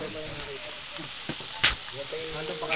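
Beans and cabbage are sautéed with seasoning cubes in a pan for Batangas-style pancit guisado, giving a soft steady sizzle with occasional stirring scrapes and a sharp hiss burst, while a voice talks underneath.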